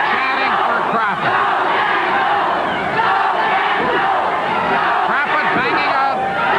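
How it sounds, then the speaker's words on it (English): Loud Stampede Wrestling arena crowd from 1985 chanting and yelling continuously, a dense, roaring wall of voices throughout. "the crowd chanting for Crawford"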